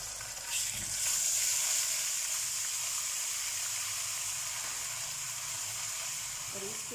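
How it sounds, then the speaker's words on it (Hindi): Garlic ginger paste hits hot oil with bay leaf and whole garam masala, giving a steady bright sizzle that flares after the first second and then hisses evenly, fairly quiet and close, with no talking. "अब मैं इसमें डालूँगी लहसुन अदरक का पेस्ट"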